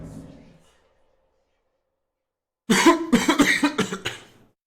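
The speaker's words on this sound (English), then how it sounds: "That's like the first time I've coughed on stream today" A single burst of several sharp coughs in quick succession from a streamer playing Quake duels, close to the mic and loud, following a brief stretch of quiet after a faint murmur.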